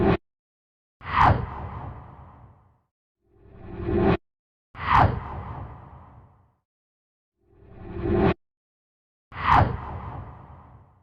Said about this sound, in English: Let's go ahead and listen to the unprocessed whooshes that are currently cut into place.